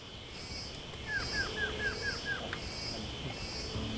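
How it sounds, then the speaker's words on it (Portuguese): In dense forest, a small bird gives a run of six quick, thin descending chirps, faint and distant over a soft hiss of background ambience. "é muito difícil visualizar um pássaro, mas possível ouvir o canto das aves"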